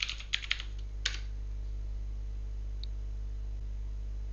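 A password is typed on a computer keyboard at a Windows remote desktop login: a few quick key clicks, then a final keystroke, over a steady low electrical hum.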